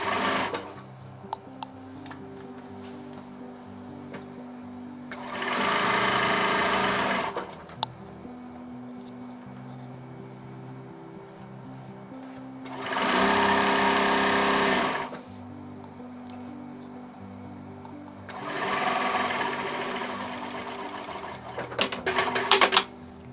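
A sewing machine stitches a French seam on a basic fabric tote bag in three steady bursts of fast whirring, with quiet pauses between them.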